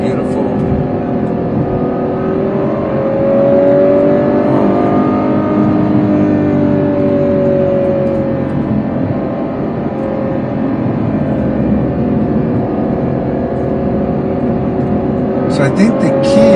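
A Ferrari GTC4 Lusso's engine revs while driving, held high around 6,000 rpm, a loud sustained drone that rises and falls steadily with someone talking over it throughout.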